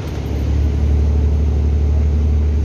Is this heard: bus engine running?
yes